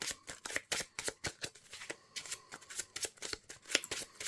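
Marvel Champions cards being shuffled by hand in quick riffling bursts, a rapid run of crisp papery flicks and snaps close up, with no talk.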